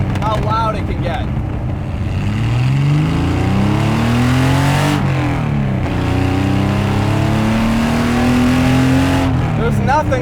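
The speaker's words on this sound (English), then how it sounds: "There's nothing like a flat 6." Porsche 911 with a flat-six engine, an RWB-modified build, revving loudly and continuously with rising and falling pitch sweeps across several throttle blips, close and dominant, with speech faintly underneath.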